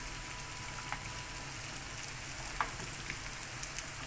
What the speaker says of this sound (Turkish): pirinç şeffaf rengini alana kadar kavurun